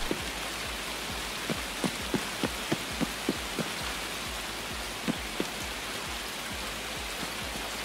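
Steady rain falls in the game Escape from Tarkov as a dense even hiss, with a run of soft regular footstep-like thuds partway through, and no talking.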